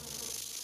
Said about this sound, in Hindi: इन मच्छरों की आवाज तेज है।